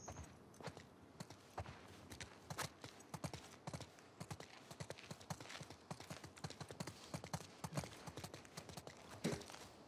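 Horse hooves clip-clop in a steady walking rhythm in The Last of Us Part II. The rapid, close, distinct hoofbeats continue with no speech over them.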